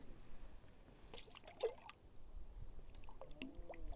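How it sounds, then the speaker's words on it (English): Water scooped from a lake into a 5-liter bag for a gravity water filter on a backpacking trip: quiet drips, trickles and a brief splash, with faint squishing of the bag. "Time to scoop up some water."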